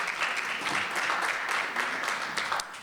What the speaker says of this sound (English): we do appreciate applause